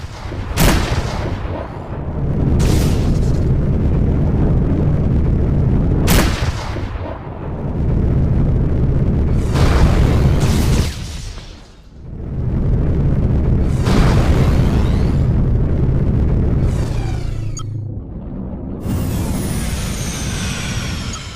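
Missiles explode in space combat in Rebel Galaxy Outlaw, a series of loud booming blasts with long rumbling tails that overlap and roll on one after another, with no voices.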